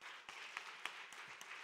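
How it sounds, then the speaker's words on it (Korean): Applause from the congregation at a church Christmas service in Gunsan, a soft steady patter of clapping heard from a distance, with a few sharper claps standing out. "박수로 격려해 주시기"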